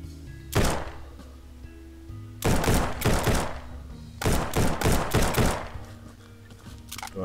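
A weapon test-fired in the survival game Withstand: Survival, heard as sharp loud bursts: one single shot, then two quick volleys of several shots each, with quiet gaps between them.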